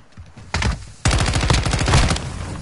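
Rapid automatic gunfire in Call of Duty Modern Warfare II on the Shipment map, loud and close, with a short burst followed by sustained continuous firing.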